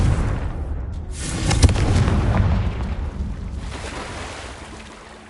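A fire-based Confringo spell explodes in the game Hogwarts Legacy, a loud booming blast that swells and rumbles for a few seconds before slowly fading.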